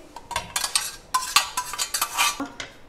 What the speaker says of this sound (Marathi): या भाज्या मी सगळ्या कढईत काढून घेते